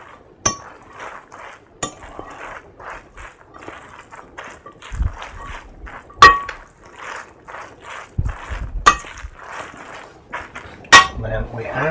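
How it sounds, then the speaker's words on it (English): Butter and cheese worked through hot tagliolini in a pan bring repeated light clinks and taps of a utensil against cookware, with soft stirring in between and a faint voice at times. "Add the butter and the cheese and just start to work that through while the pasta's still nice and hot."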